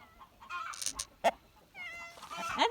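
A barred rock chicken gives a few short clucks and squawky calls close by, scattered in quick uneven bursts with quiet gaps between, in a yard with chickens and guineas.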